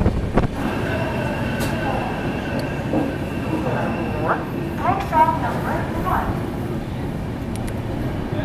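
Shatabdi Express pulling into platform 1 at Bardhaman Junction, a steady rumble of rolling carriages with faint wheel squeals and brief tonal accents, voices murmuring under the train noise.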